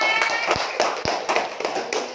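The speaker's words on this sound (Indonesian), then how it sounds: "Tepuk tangan buat kalian semua" A class of schoolchildren claps in a classroom after finishing their masks: several sharp, scattered hand claps at an uneven rhythm, close and fairly loud, over a background murmur of voices.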